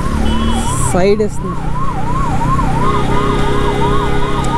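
An ambulance siren wails loud and close in a steady rising-and-falling cycle, heard from an Apache RTR 200 motorcycle on a windy road in Vizag, with rushing wind and a brief spoken remark.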